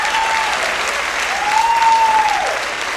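A stand-up comedy club audience bursts into loud, sustained applause, a dense wash of many hands clapping together close by, with a faint voice briefly over it.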